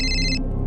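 Telephone ringing indoors, a bright electronic trill heard up close and loud for under half a second before cutting off.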